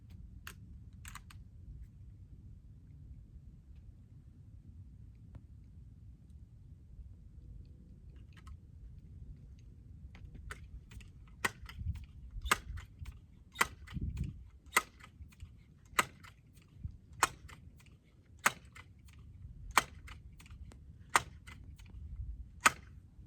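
A modified Benjamin Sheridan 392 air rifle being pumped and loaded, a string of sharp, evenly spaced clicks and clacks over a low background rumble, getting slightly louder and more regular toward the end.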